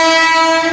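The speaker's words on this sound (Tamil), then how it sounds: "அங்கே பக்கம் ஒரு எக்ஸ்பிரஸ் ட்ரெயின் வருது" Express train going by a station, a strong steady horn-like tone with dense harmonics held loud and close for the whole short moment, with no talking.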